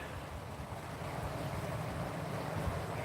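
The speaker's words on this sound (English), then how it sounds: "The water sound is great." Steady moving water on the Orange River, a broad wash of flow and rushing sound mixed with wind buffeting the microphone, constant and fairly close with no voices.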